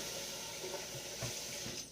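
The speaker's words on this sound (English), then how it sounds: "next we're going to rinse off this lid" A cast iron lid is rinsed under a running kitchen tap, with a steady stream of water splashing and shifting briefly over the metal before fading out at the end.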